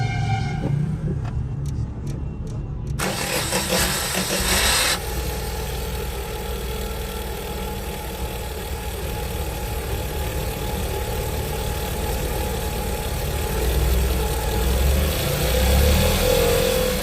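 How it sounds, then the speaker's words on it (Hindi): A Tata Ace Gold mini truck's 700 cc inline two-cylinder, water-cooled CNG engine cranks and catches about three seconds in, then settles into a steady, close, moderately loud idle with no talking. "ये है 700 cc inline 2 cylinder water cooled multi point gas injection CNG engine."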